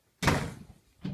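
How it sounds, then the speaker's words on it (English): A door slams shut with one loud, close thump that rings briefly, followed about a second later by a softer knock, with no voices. "don't slam the door"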